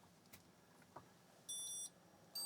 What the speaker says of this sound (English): Ah, it's still beeping.